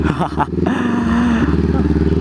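A Honda CB500X motorcycle rumbles briefly while being ridden, a close, pulsing engine throb with a short rev rising in pitch and then leveling off.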